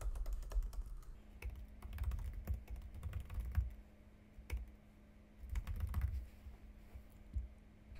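Keys tapped on a computer keyboard while a label for a Cricut storage bin is entered, a steady run of soft close clicks in short bursts with brief pauses, no voices.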